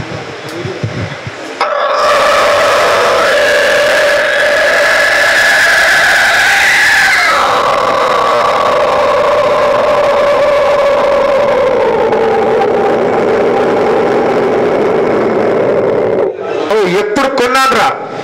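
A mimicry artist vocally imitates an aeroplane taking off from an international airport, a loud continuous rising whoosh and roar that builds, sweeps upward and then settles into a sustained engine drone for about fifteen seconds, performed alone without speech.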